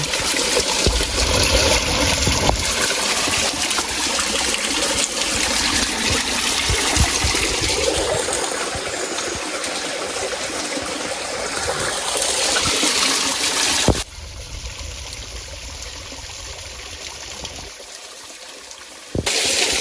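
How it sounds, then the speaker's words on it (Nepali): Waterfall water pouring steadily, a dense continuous rush close by with a brief break and shift in tone partway through. "झरनाको पानी।"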